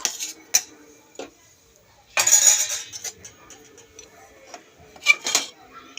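Rice being served onto a plate at a home lunch, heard as scattered scrapes and clinks of a utensil against dishware, with a denser burst of clatter in the middle and another near the end.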